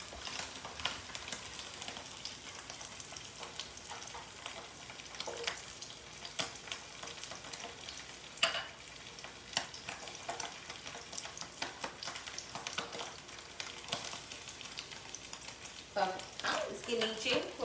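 Oil fries in a pan while an eggless shakshuka cooks, a quiet, steady sizzle with frequent light clicks and scrapes from utensils, building slightly louder near the end.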